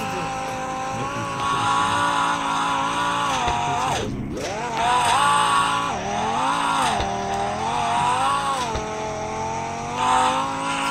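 A car drives in the Roblox game Car Dealership Tycoon, its engine droning steadily and rising and falling in pitch with loud revs and occasional shifts, continuous throughout with faint voices underneath.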